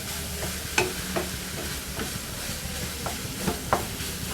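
Carrot halwa being stirred in a pan, with a steady soft sizzle under repeated scraping strokes of a spoon against the pan at an uneven rhythm, close and fairly quiet.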